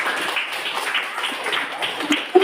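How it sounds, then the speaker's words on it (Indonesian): A classroom of students gives a short burst of applause, with fairly light, uneven clapping and a few louder individual claps near the end. "Ya, oke, tepuk tangan."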